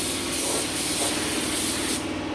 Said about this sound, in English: Just with this run, spray it thick so it actually just runs to the bottom